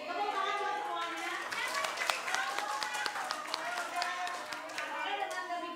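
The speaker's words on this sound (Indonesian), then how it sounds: "Tepuk tangan buat semuanya." Applause from a group of children after a primary school practical exam, a steady patter of many hands clapping with scattered sharper claps, voices mixed in throughout.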